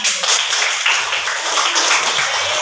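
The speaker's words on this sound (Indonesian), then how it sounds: "Tepuk tangan" Seventh-grade students clapping their hands in a classroom civics lesson, a busy, fairly loud burst of many hands clapping together throughout.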